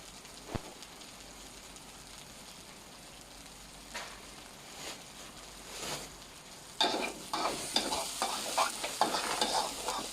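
Shallots are stir-fried in a pan for a Thai-style egg curry, a soft sizzle under scattered spatula scrapes that grow louder and busier toward the end.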